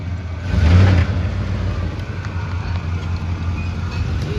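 A GMC K2500 farm pickup with worn torsion bars driving down the road, heard from the cab as a steady low engine drone and road rumble that swells briefly early on before settling into an even cruise, with no talking.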